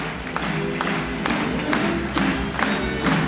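Audience clapping and cheering at a dressage show, a continuous crowd noise with light thuds, fairly close and steady for the whole stretch.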